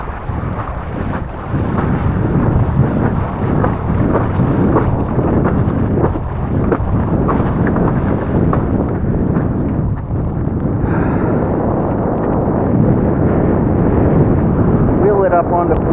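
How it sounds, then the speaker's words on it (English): Gusty, shifting wind buffets the microphone outdoors on the water during a parawing foiling session, a continuous low roar that swells and eases in uneven surges. "the wind has died down and turned rather fluky"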